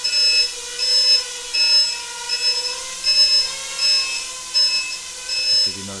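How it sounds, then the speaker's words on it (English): A timer buzzer goes off while a KingKong 260 racing quadcopter flies in a cluttered garage, beeping in a repeated, evenly pulsed high-pitched pattern that stays loud and close over a steady drone whine. "Oh, there's the buzzer."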